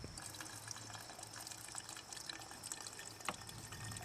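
Old, foul gasoline drains from a Lawnboy 20-inch mower with a Kohler 149cc engine, a steady close trickle and splash of liquid running continuously into a container, with a brief louder spatter near the end.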